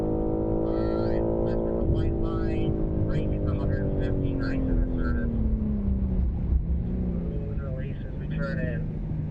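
A BMW M3 accelerates around the Circuit of the Americas track, its engine a loud, steady drone whose pitch climbs and falls through the clip, with a voice coaching over the engine noise.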